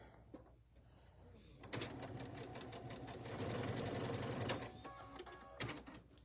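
A sewing machine stitches across the corner of a quilt block, a fast close mechanical whirr that runs for a few seconds after a quieter start, then stops and gives a brief second burst.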